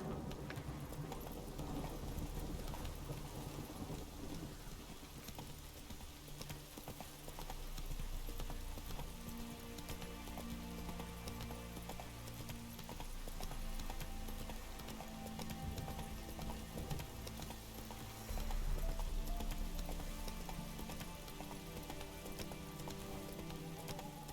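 Hoofbeats of the horse Roach in The Witcher 3 clatter in a steady galloping rhythm, heard with dense game music and ambient sound for the whole stretch.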